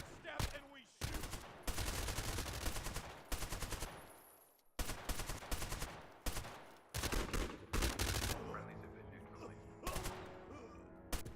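Gunfire in the shooter game Zero Hour: loud, dense automatic bursts of several seconds each, separated by short pauses, ending with sparser shots.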